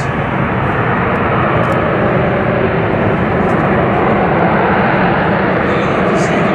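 A loud, steady roar of an aircraft flying at the Farnborough airshow, a dense broadband engine drone holding constant throughout with a commentator talking over it.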